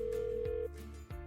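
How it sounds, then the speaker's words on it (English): A telephone on the line after dialing gives a steady single tone that cuts off, followed by soft clicks, faint and close in an otherwise quiet background. "So he picked up the phone and dialed"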